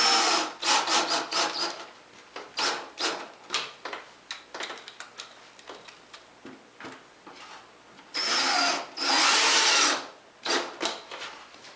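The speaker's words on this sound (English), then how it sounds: "Now I can go ahead and screw it in place." Power drill driving screws into wooden slats of an Adirondack chair, a series of short close whirring bursts with pauses between them, plus two longer drilling runs near the end.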